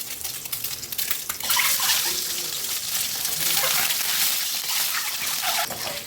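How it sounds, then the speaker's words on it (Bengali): Eggs frying in hot oil in a wok make a loud, continuous hissing sizzle that swells after the first second and stays dense and close to the end. "তেলটা ভালোভাবে গরম হয়ে গেছে এখন আমি ডিমগুলো দিয়ে ভেজে নেব"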